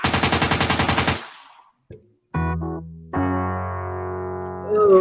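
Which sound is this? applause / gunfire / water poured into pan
gunfire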